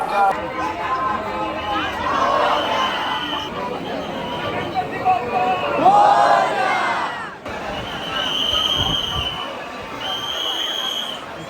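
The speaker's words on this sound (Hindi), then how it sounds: "तो काफ़ी भीड़ है यहाँ पर दर्शन के लिए" A dense devotee crowd packs the long queue at the Lalbaugcha Raja pandal during Mumbai's Ganesh festival, a loud steady babble of many voices with shouts and chants rising and falling close around.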